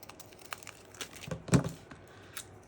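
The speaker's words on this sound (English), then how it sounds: "I'm just going to trim that down." Shaker sheet paper being trimmed down for a handmade Christmas card: soft, close crinkling and small snipping sounds, irregular and light, with one louder crisp rustle midway.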